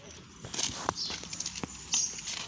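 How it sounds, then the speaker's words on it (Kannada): Buffaloes running toward a railway crossing on a road, their hooves giving a quick, uneven clatter of steps at moderate distance over steady outdoor background noise. "ಎಮ್ಮೆ ಓಡ್ ಬರ್ತಿದ್ದಾವೆ"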